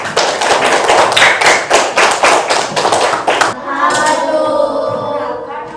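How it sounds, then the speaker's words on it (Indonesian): Classroom students clap for a group in a run of distinct, fairly loud hand claps over about three and a half seconds, followed by quieter room sound as speech begins. "Tepuk tangan dulu untuk kelompok Pirsa."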